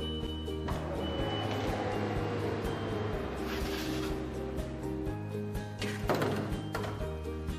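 Steady electronic beeping repeats from a kitchen timer over a low background hum, with a few clinks and knocks, while asparagus steams.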